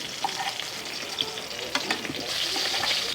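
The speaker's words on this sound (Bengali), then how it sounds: "দেখছেন আমি সব মাছগুলোই ফেলে দিয়েছি, ফরফর করে উঠে যাচ্ছে।" Koi fish sizzle and crackle steadily in hot oil in a pan, a dense, continuous frying hiss close to the listener.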